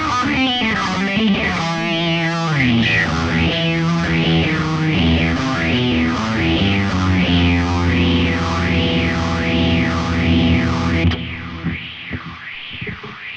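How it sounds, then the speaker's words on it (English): Distorted electric guitar chords through a metal preset in Positive Grid's Bias FX 2 Pro ring out with a sweeping phaser that swirls up and down in a steady, even cycle before the notes cut off near the end. "so if we wanted to bypass the flanger, chuck in the phaser"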